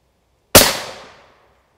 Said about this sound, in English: So I'm gonna take this shot probably down left of the plate.